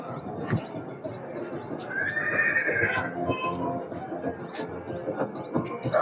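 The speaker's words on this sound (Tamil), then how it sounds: "பாருங்க ரெண்டுமே பெரிய சைஸ் குதிரைங்க" Large horses at the Anthiyur market whinny loudly nearby in one long neigh, with hooves clopping and faint voices in the background.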